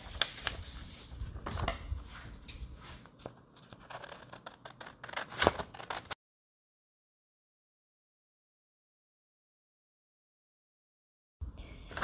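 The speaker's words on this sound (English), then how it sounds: "we're going to cut out the outline of this page just on this rectangle" Scissors cutting the outline of a paper notebook page, close and quiet with soft snips and crinkling paper for about six seconds, then silence before a brief return of rustling.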